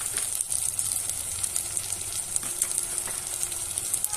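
Steady, close sizzle of spices and vegetables frying in a pan for Andhra pappu charu, a dense crackling hiss with faint stirring scrapes, unbroken throughout and without talk.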